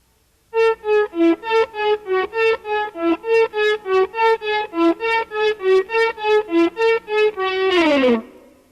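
Electric guitar played slowly without echo, each single note swelling in on the volume control, about twenty evenly spaced swelling tones, then a final bending note, close and alone.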